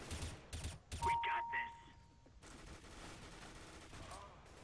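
Counter-Strike: Global Offensive gunfire sounds in a few rapid shots at the start, followed by a steady stretch of fainter sustained noise, with a voice speaking over part of it.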